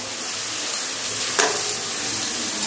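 A ginger, garlic and green chili spice paste frying in a pot for chicken biryani after a splash of water, giving a soft, steady, even sizzle with one brief clatter midway and no voices.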